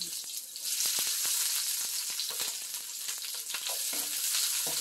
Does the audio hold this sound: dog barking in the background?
no